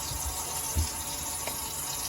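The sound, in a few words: water running from kitchen faucet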